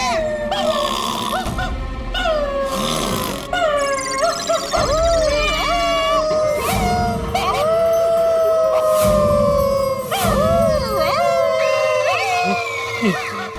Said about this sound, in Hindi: घर में कुत्ता भी है।